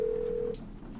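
Telephone tone in the Nancy Drew game Legend of the Crystal Skull, a single steady beep lasting about half a second, then a quiet line.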